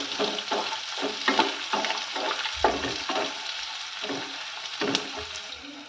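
Chopped onions frying in a hot pan for coriander rice, a loud continuous sizzle broken by repeated rhythmic stirring scrapes, close and clear with no voices.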